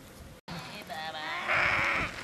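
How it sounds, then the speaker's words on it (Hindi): Goats and young goat kids bleat close by, a wavering, nasal cry that swells louder toward the end, with faint background noise and a brief dropout before it. "ये बकरी के बच्चे इसलिए यहाँ डाले जा रहे।"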